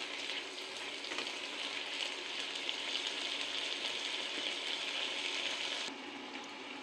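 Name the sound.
stirring green and dried chillies frying in oil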